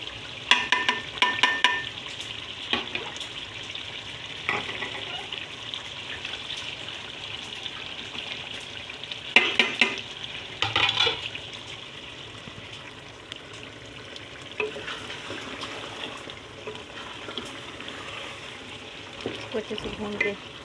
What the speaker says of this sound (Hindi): दही इसको मैं भून रही हूँ, और साथ साथ में ये भी डाल दी हूँ धनिया और मिर्ची।